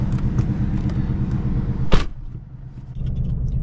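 A 2019 Mustang GT Fastback with a 5.0 V8 and automatic transmission, a low rumbling engine drone while driving, steady and close, with a brief sharp transient midway and a slight dip before the rumble resumes.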